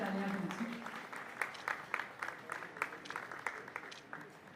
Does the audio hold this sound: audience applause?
yes